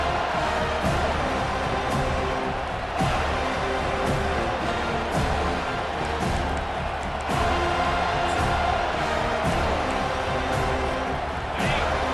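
Stadium crowd noise roars steadily throughout a college football game in EA Sports College Football 25, loud and sustained with bursts of cheering, while an announcer talks over it.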